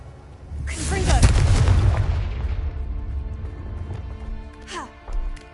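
Casting Confringo in the video game Hogwarts Legacy sets off a loud fiery blast. A deep boom swells and rumbles for about a second before fading into crackling debris, and a couple of smaller pops follow near the end.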